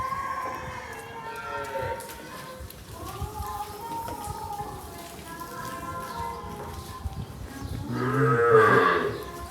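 Cows in a shed moo in long, drawn-out calls across the whole stretch, one close and loud near the end, with faint background clatter and little talk.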